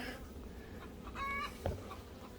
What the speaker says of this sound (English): We got a chicken in the background laying an egg.